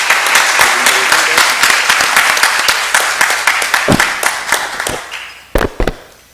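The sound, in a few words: audience applause for the panel chair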